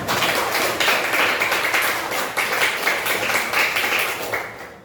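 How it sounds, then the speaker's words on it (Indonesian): Students in a Hindu religious education classroom clap together for a group of classmates, a dense, steady patter of many hands that holds for several seconds before trailing off. "Tepuk tangan kasih kelompok."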